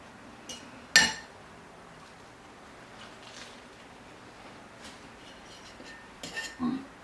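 A few sharp clinks of cutlery against a dish as bread is stirred into poached eggs and lemon mint yogurt, isolated taps with quiet gaps between them.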